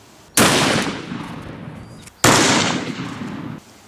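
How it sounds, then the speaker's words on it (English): Two loud, sharp blasts about two seconds apart come from a .500 Smith & Wesson Magnum firing 350-grain Xtreme Penetrator rounds into ballistics gel. Each shot rings out and trails off in a long echoing decay. "Now I wanted to make sure, so I shot it one more time."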